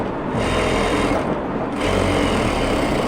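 Sewing machine edge-stitching a trouser hem: two bursts of rapid mechanical whirring, close and steady, separated by a brief pause.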